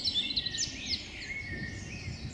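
A European robin sings from a tree branch, a thin, high, warbling phrase of trills and sliding notes running continuously at moderate distance with no other sounds.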